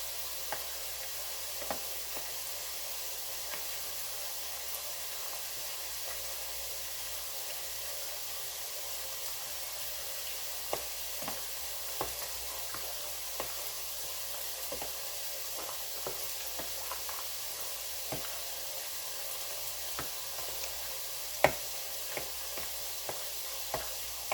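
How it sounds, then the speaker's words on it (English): Food sizzles steadily in a pan during lasagna prep, a soft even frying hiss with scattered light scrapes and clicks of a utensil stirring, fairly quiet and close, no talking. "I'll get this all stirred up, mixed up nicely"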